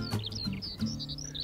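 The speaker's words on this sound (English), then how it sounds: "Skylarks this morning." Skylarks sing outdoors in the morning, a faint stream of rapid high twittering notes with a few low thumps underneath.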